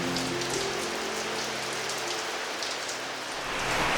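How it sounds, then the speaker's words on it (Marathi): Evening rain falls steadily outside a room near a cave temple, a dense even patter with scattered brighter drop hits, close and continuous throughout with no voices. "संध्याकाळची वेळ झाली आहे आणि बाहेर असा छान पाऊस पडतोय"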